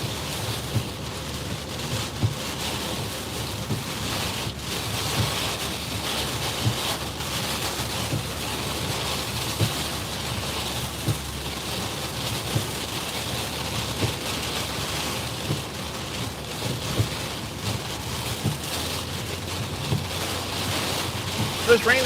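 Tropical storm wind and surf at Myrtle Beach, South Carolina, with rain falling and gusts of about 30 to 35 mph, as a steady broadband roar of wind buffeting the microphone over crashing waves throughout.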